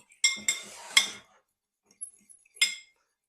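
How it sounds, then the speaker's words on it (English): Egg whisked in a bowl for a fruit tealoaf: a few quick, bright clinks of metal against the bowl in a short burst, a pause, then one more clink, close and with no talking. "And just give it a little whisk"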